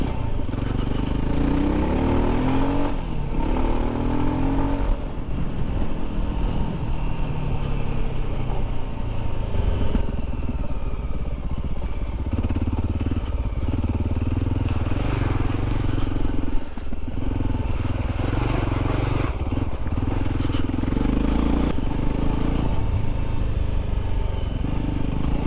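Voge 300 Rally motorcycle on Michelin Tracker tyres riding an off-road trail, its engine droning steadily throughout with rough clatter from the terrain and shifting revs, loud and close.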